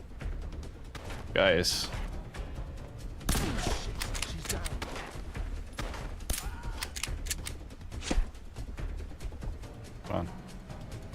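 Gunfire in Fallout: London, a steady crackle of shots and impacts spread through the scene with a few louder cracks, while a voice speaks briefly over it.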